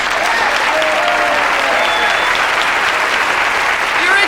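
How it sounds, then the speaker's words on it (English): Studio audience at a television variety show reunion breaking into loud, sustained applause and clapping, dense and steady throughout. "Please, a big round of applause for Bob Mackey."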